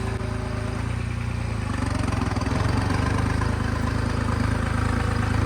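A New Holland tractor engine runs steadily under a heavy load while pulling a full trolley of harvested paddy, a constant low rumbling drone that stays near and loud throughout, with no talking.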